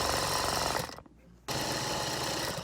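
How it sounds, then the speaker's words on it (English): A sewing machine runs edge stitching along a tie, a loud steady mechanical whir that stops briefly near the middle and then resumes. "So I'm just doing an edge stitch, like as close to the edge as I can on the tie."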